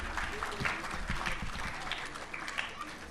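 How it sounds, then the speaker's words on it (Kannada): Audience at a school event applauding to welcome a children's dance performance, a dense continuous wash of clapping from a crowd, heard at moderate distance and somewhat faint. "ತುಂಬ ಚಪ್ಪಾಳೆಯೊಂದಿಗೆ ಸ್ವಾಗತವನ್ನು ಕೋರಿ"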